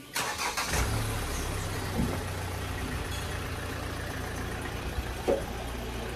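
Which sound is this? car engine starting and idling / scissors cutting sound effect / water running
car engine starting and idling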